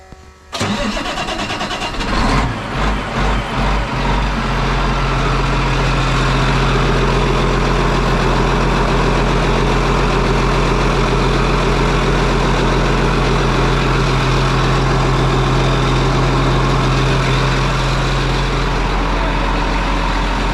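Truck engine cranking for about two seconds, catching with a few rough pulses, then settling into a loud, steady idle with a low droning hum; the truck has just had its transmission hose worked on. No talk.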